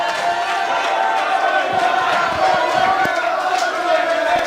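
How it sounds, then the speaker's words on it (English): A Victorian crowd at a men's teams bowls final cheers and calls out in support of the players, a continuous dense mix of many voices with scattered shouts and claps, fairly loud throughout. "you can hear basically the Victorian crowd all supporting right behind the players."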